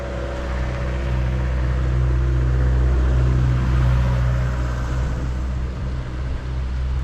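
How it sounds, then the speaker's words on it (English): A truck drives past on a quiet road in Paradise Valley, its engine a loud, low rumble that holds steady throughout before easing slightly toward the end. "Just wait till this truck goes by"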